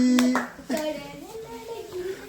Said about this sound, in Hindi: क्लैपिंग